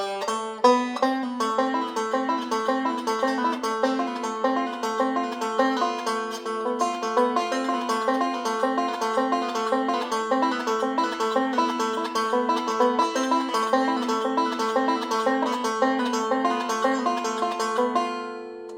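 A banjo plays a steady, rolling forward-roll picking pattern with pull-offs, quick repeated notes ringing and bright, continuing without pause for the whole stretch.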